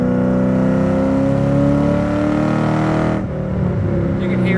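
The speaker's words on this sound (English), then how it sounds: "The exhaust is still the original Saleen exhaust. Has a great note to it." A 2005 Ford Saleen with a supercharged 4.6 engine and its original Saleen exhaust idles and warms up, a steady, loud, close engine drone that dips briefly near the end before settling back to idle.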